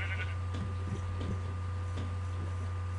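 Sheep bleating in the video game Minecraft, a few short bleats early on over a steady electronic hum and constant background noise.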